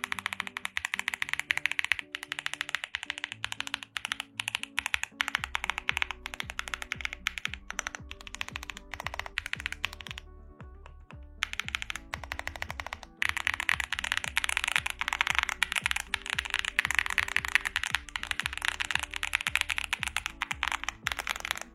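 Close, steady typing on a ZoomPad SE mechanical keyboard with full foam and heavy tactile switches makes dense poppy, muted clacks in quick bursts, with a short pause midway and no talking.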